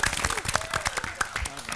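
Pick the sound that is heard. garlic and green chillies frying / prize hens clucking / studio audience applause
studio audience applause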